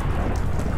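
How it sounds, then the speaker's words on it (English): Loud, steady rain pours in a Minecraft game world with a deep thunder rumble underneath, a dense unbroken wash filling the whole moment. "Whoa, it's raining."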